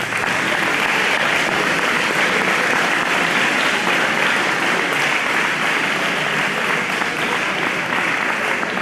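A lecture hall audience gives warm, sustained applause welcoming Dr. Castaño before his philosophy talk, a dense continuous wash of clapping that stays loud and steady from start to finish.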